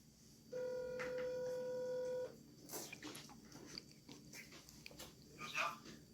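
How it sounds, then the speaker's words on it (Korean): A telephone call is placed: a steady dial or ring tone sounds for under two seconds, then clicks and faint rustling follow in a quiet room. "전화 한번 해보도록 하겠습니다"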